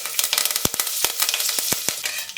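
Curry leaves crackle and sizzle in hot oil with popping mustard seeds and cumin, the tempering for a palak and green gram dal curry; sharp pops and spits sound close and steady over a continuous hiss.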